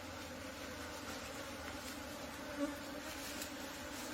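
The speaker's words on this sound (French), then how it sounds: "Vous voyez qu'il y a déjà des abeilles tout autour d'elle." A steady, low insect buzz hums throughout, many bees droning together around a hive at moderate volume with no voices.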